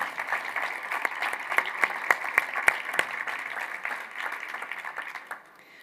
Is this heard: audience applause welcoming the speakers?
yes